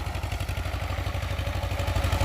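An Escorts 335 tractor engine, over thirty years old, pulls a 14-tine harrow on a cold morning with a steady, rhythmic low diesel thump at moderate distance, no voices over it.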